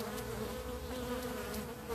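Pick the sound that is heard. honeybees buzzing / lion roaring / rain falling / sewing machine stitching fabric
honeybees buzzing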